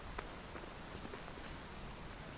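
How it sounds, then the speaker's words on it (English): Steady rain falls on a rainy day along Charity Market Path in Lies of P, a constant hiss of drops on hard surfaces that fills the space evenly and quietly, with faint patter and no voices. "Charity Market Path, rainy day."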